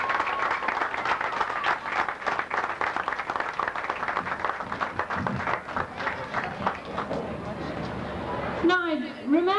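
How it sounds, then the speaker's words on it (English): A crowd claps and applauds at the opening of a festival in Warrenpoint, a dense patter of hands that fades near the end as a voice begins speaking. "give a good thundering Warrenpoint applause for the hard-working committee"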